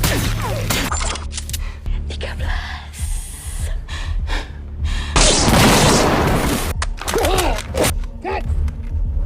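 Grenade explosions in a film action scene where a helmeted attacker takes out a squad of agents, loud booming blasts and crackling debris layered with gasps and a dense, chaotic rumble throughout.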